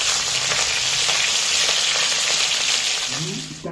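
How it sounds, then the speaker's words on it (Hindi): Cauliflower pieces fry in hot oil with a steady, loud, dense sizzle throughout, easing slightly at the very end with a faint clatter. "अपनी गोभी को भी फ्राई करेंगे।"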